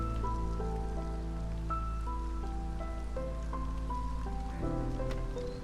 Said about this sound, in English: Oh, good. Acid rain.